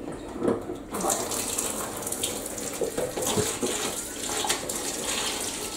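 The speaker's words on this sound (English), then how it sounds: "Final little rinse, that'll do them. Just a bit of cold." Cold tap water runs steadily into a sink while hand-washed wool socks get a final rinse, a close, continuous rushing splash with slight surges in level.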